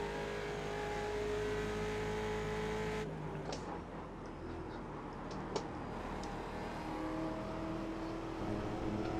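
A Ford Mustang race car engine in the iRacing game holds a steady high whine, then drops abruptly into a rougher, lower rumble with a sharp click partway through, continuous and close.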